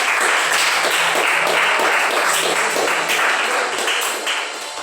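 A church congregation applauds steadily during an evening service, a thick wash of clapping that holds for several seconds before fading slightly at the end.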